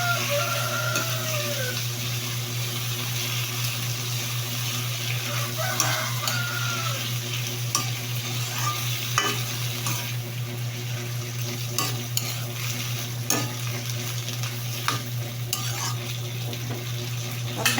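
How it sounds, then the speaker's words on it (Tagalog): Shrimp fry in a pan for buttered garlic shrimp, with a continuous low sizzle broken by repeated utensil scrapes and clinks against the pan, close and alone without talk. "Lalagyan na po natin itong hipon."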